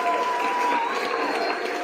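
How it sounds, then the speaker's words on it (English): Round of applause from an audience, a short wash of crowd clapping and murmur under a sustained whistling tone that wavers in pitch, continuous and fairly loud throughout. "Round of applause to the late, great Dr. Blair."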